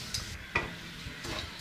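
Capsicum gravy masala frying in a pan while being stirred, a quiet close sizzle with a few soft scraping strokes of the spoon over about two seconds.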